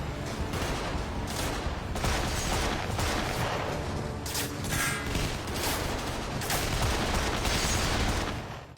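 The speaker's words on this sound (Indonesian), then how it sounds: "Terjadi aksi baku tembak di antara mereka" Film shootout with sustained bursts of gunfire, rapid overlapping shots and booms forming a dense, loud barrage with no voices.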